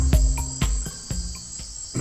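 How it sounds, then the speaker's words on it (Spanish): Crickets or cicadas chirp in the jungle in regular, evenly spaced pulses with a steady high-pitched buzz, close and fairly loud, with no voices. "Esto que escuchas son grillos, o chicharras, o lo que quieras."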